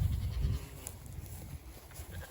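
Goats on a farm bleat faintly amid a steady low rumble of outdoor noise, close by but soft, with no clear talking.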